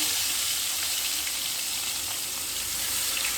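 Four katla fish pieces frying in oil in a pan, giving a steady, close, even sizzle with no pauses and no talk.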